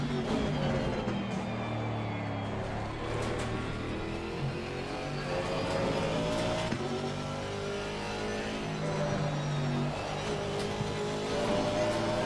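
Aston Martin AMR V8 race car lapping Kyalami in Assetto Corsa Competizione, a loud continuous engine drone rising and falling through gear changes and revs, with brief tire squeal, no talk.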